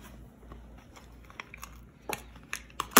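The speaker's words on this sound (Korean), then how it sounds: "오늘은 유기농 쌀과자를 먹어보겠습니다" Organic banana-flavored rice crackers being eaten up close, with soft crunches and bites growing sharper toward the end over a quiet background.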